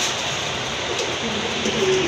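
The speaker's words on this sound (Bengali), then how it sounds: "এগুলো খুবই তেজি কবুতর পাগলের মতো ডাকতেছে" Lively pigeons for sale at a market stall coo over a steady wash of background noise, their low calls faint and blended into the crowd din.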